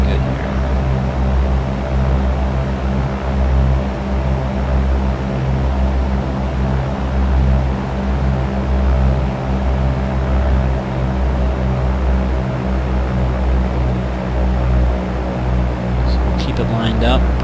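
Steady drone of a Cessna 172 piston engine and propeller in the X-Plane flight simulator, a continuous droning hum with no breaks through a crosswind approach to a runway.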